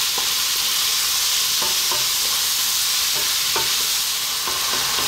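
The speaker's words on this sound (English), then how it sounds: "Let's drop in those mushrooms now. 200 grams roughly of a fresh white mushroom." Fresh white mushrooms fry in a pan with a loud, steady sizzle that never lets up, while occasional soft scrapes and taps of stirring come through close by. No one speaks.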